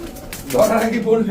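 A male pigeon coos softly at close range, a short low warbling call rising and fading over about a second.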